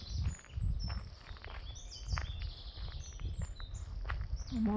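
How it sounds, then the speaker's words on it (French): Birdsong in a woodland: faint high chirps and short whistled phrases scattered over quiet rustling and soft low thumps like footsteps, with no talking. "On entend les oiseaux."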